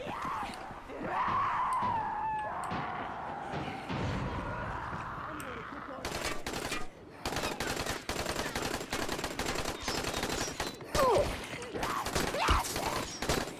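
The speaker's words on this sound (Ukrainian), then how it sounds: "Там чувак з автоматом стріляє" Rapid bursts of automatic gunfire crackle through a busy Dying Light game soundscape, with dense shooting growing heavier in the second half amid shouts.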